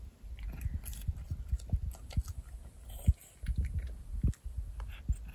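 A cat chewing food close up, with soft rhythmic biting and crunching that repeats steadily, while a person murmurs quietly in the background.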